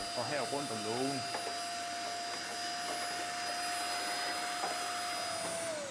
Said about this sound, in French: Je vais maintenant passer l'aspirateur autour des joints de la porte, au fond du foyer et autour de la porte.